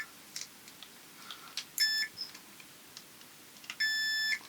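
Multimeter in continuity mode beeping while a 0 ohm resistor from a faulty Bush BD-1709 radio is tested: two short steady tones amid faint clicks of probes, quiet and close.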